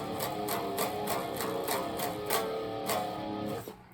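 A distorted electric guitar chugs a driving rhythmic closing riff with accented strums, then stops abruptly and rings out briefly at the end.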